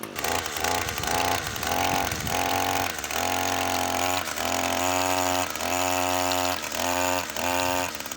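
A Husqvarna 545 chainsaw warming up, its loud, close two-stroke engine droning and shifting pitch as it revs and settles, with no talking over it.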